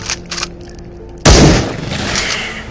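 A sudden loud gunshot from the VR shooter Into the Radius bursts out after a quiet stretch, followed by a long booming decay, with faint clicks and handling noise before it.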